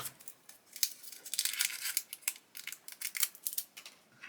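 Scissors snip open a plastic bag of screws for a 1:6 scale Mustang GT500 model kit, a rapid series of close, crisp cuts mixed with crinkling plastic.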